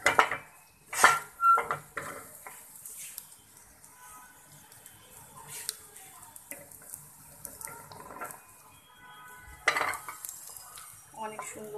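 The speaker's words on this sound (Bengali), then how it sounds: "এখন আমি এটা বাটিতে দিচ্ছি" Cooked bitter gourd with rohu fish roe being served into a bowl, with a few sharp utensil clinks and scrapes against cookware at the start and later, quieter scraping between, no talking.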